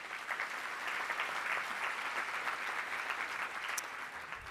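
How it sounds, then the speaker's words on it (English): A round of applause for award nominees at a community awards ceremony, sustained even clapping from a large audience heard at a distance and fairly soft. "if give them one more round of applause"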